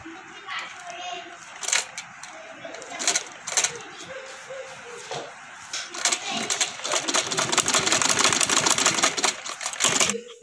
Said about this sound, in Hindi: अब मैं बैन के ऊपर से सिलाई लगाती हूँ